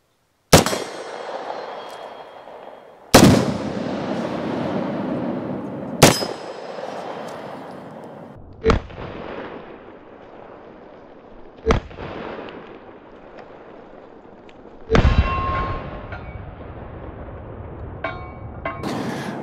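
Gunshots from a Beretta PMXs submachine gun hitting exploding targets and shaving cream cans at a range: six sharp, loud blasts spaced a few seconds apart, each followed by a long ringing decay, with a metallic clang near the end.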